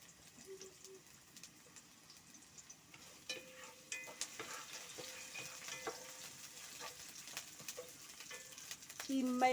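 Onions fry in cooking oil over a traditional cooking fire, giving a soft, faint sizzle with scattered crackles and stirring clinks that grow slightly louder toward the end.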